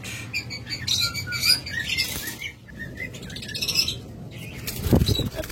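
Ring lovebirds chirping close by, a busy series of sharp high tweets and short calls in quick bursts, with brief pauses and a rustle or flutter toward the end.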